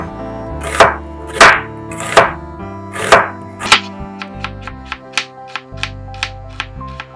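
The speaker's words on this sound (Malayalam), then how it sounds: "നല്ല നേരിയ രീതിയിൽ കട്ട് ചെയ്തെടുക്കണേ ഒനിയൻ" A knife slicing an onion thinly on a cutting board, starting with several slow, heavy chops and then speeding into a quicker even run of crisp taps, close and loud, with no voices.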